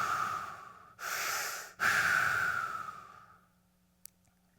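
A voice imitates a hospital ventilator breathing machine with a few strong, breathy whooshing puffs separated by short pauses, trailing off into quiet.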